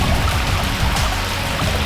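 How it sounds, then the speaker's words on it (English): A small trickle of water runs at a waterfall in the Margaret River region, heard close as a steady, loud splashing pour with no talk. "Just a little trickle today, unfortunately."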